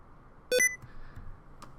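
A short Windows Filter Keys warning beep sounds after the right Shift key is held down, followed by a few faint, brief tones in an otherwise quiet room.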